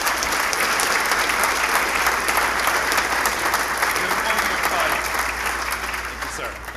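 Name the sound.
audience applause at a keynote introduction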